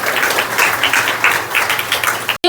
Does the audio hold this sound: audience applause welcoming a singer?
yes